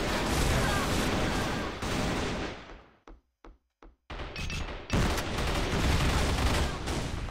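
Rapid volleys of gunfire fill an Assault Fire match, dense shooting breaking off into a few isolated single shots before heavy firing resumes, loud and close.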